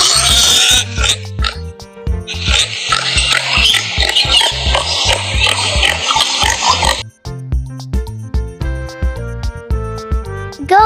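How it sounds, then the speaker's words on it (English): A pig grunts and oinks in a quick series of loud, close snorts over a bright musical backing, the calls dense at first and turning more scattered toward the end. "Pigs are stout, barrel-shaped mammals that are known for their big appetites."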